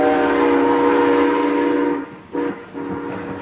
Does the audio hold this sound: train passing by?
yes